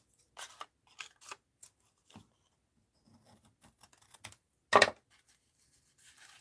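Paper is cut with scissors for an art journal: a handful of crisp, scattered snips and rustles, close and fairly quiet, with one louder cut near the end.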